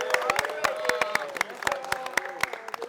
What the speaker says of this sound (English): clap it up if you're excited